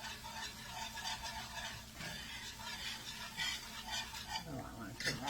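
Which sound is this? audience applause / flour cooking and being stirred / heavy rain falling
flour cooking and being stirred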